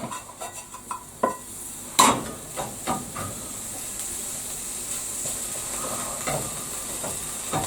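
A French toast bagel sizzles in a frying pan, a steady low hiss running under scattered clinks and scrapes of a utensil against the pan, with a louder knock partway through.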